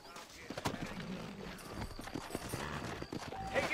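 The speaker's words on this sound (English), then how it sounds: "You ain't gonna find sturdier horses than these in all of New" Horses' hooves clip-clop at a steady walking pace in the Red Dead Redemption western video game, a string of dull, fairly quiet thuds with soft background game sounds around them.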